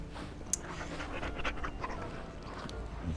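A dog in the video game Dragon Age Origins pants in quick, breathy rhythm, moderately close over a low game ambience, with a couple of faint clicks.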